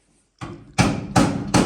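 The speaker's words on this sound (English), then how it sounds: "Let's fix this hammer for him, friends." Hammer being repaired by tapping in a wooden wedge, three to four sharp, loud knocks struck at a steady, even pace with nothing else heard.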